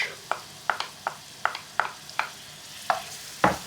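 Yoghurt being stirred into a sizzling biryani curry sauce in a pan, with a series of sharp spoon scrapes and clicks at a steady rhythm over a soft, continuous sizzle, close and fairly quiet.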